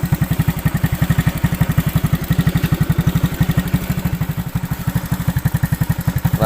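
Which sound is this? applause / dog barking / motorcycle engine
motorcycle engine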